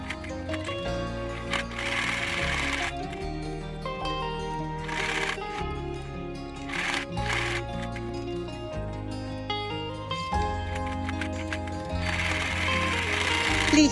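A sewing machine stitching pockets onto an apron made from jeans, with bursts of rapid mechanical needle chatter alternating with brief pauses and handling of the denim, close and moderately loud.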